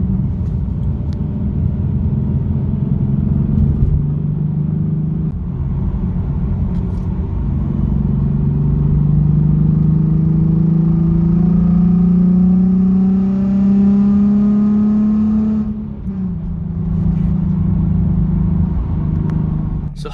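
A Nissan 370Z with a muffler delete revs hard in second gear toward redline, a loud rumbling exhaust note climbing steadily in pitch, then dropping back as the throttle lifts near the end, with no talking.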